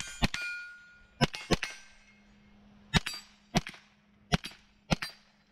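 Gunshots ringing off steel target plates, six or seven sharp metallic clangs spaced irregularly over several seconds, each with a short ringing tail, heard at a distance with no talk.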